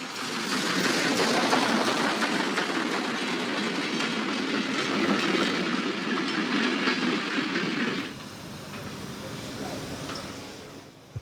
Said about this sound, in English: The train from Cluj runs into the station of Razvoien.